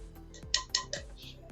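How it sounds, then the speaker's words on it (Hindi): Sago pearls tipped into a beef kebab mixture, heard as a few quick clinks and taps of a utensil against a bowl, three distinct close knocks in a short burst. "अब मैं इसमें साबुदाना डाल रही हूँ।"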